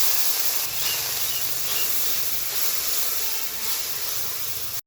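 Water poured into frying spice paste of turmeric, ginger-garlic, cumin and pepper in hot oil, giving a loud, steady broad hiss that holds throughout before cutting off at the end.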